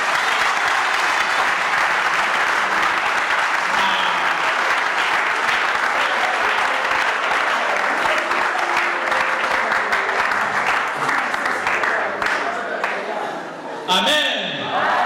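A church congregation applauds in acclaim of the Lord, a dense, sustained wash of clapping from many hands that fills the space without a break, fading slightly near the end as voices emerge.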